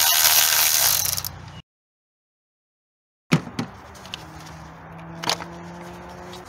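A ratchet turns the 10 mm ignition coil bolts on a 2016 Honda CR-V during valve cover work. After a burst of broadband noise and a silent gap, crisp close ratcheting clicks come in short uneven bursts.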